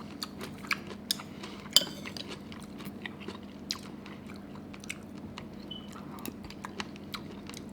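Someone eats a squid liver side dish with rice, with close, soft chewing and repeated small crunchy bites, scattered clicks of a spoon or cutlery against a dish, and no talking.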